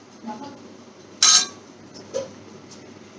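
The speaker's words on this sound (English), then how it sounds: "I'm straining the curry like this with the back side of ladle" Clinks of a metal ladle scraping and pressing curry through a strainer, one loud metallic strike followed by a softer tap and faint scrapes, close up in an otherwise quiet kitchen.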